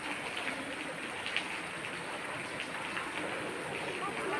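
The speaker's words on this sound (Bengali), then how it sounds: "প্রচণ্ড বৃষ্টি হচ্ছে আশেপাশে।" Heavy rain pours down in a dense, steady wash of noise over a grassy field where two horses graze, with occasional louder drops, heard from a short distance.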